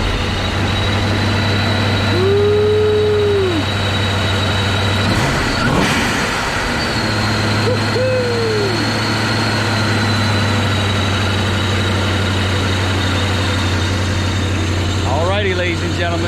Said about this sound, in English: let's hear the Procharger start up